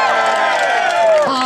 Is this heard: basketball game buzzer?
no